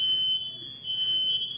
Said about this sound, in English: please forgive the alarm in the background